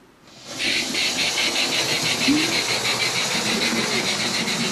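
An OO gauge model steam locomotive, a Scot class engine fitted with electronic steam sound and hauling three coaches, chuffs with a steady rhythmic hiss that rises in quickly and then runs on evenly and fairly loud.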